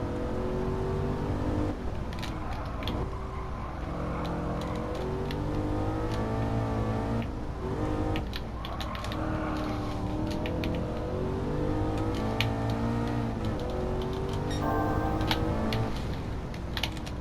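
An Aston Martin race car in Gran Turismo 7 howls through its revs continuously, gear changes and rising and falling engine tones filling the whole stretch under a faint clatter of keys.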